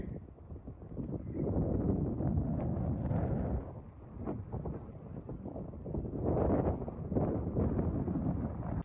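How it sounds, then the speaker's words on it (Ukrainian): Strong wind buffets the microphone outdoors in Kyiv in a continuous low roar, swelling and easing in gusts, with no other clear sounds. "Не знаю, чи вам чутно, тому що дуже сильний вітер."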